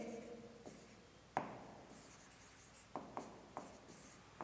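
A math equation being written by hand, likely pen or marker on paper or board, giving quiet close scratchy strokes in short bursts separated by pauses.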